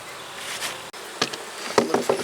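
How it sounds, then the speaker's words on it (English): Honey bees in an opened hive give a dense, steady buzzing, with a few sharper bursts of louder buzzing toward the end and no voices. "Looks like a lot of bees in there."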